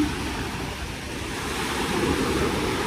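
Waves wash onto the shore at Dolomite Beach on Manila Bay, a continuous close rush of surf with no voices.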